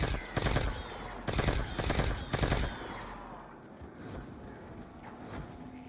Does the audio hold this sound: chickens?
no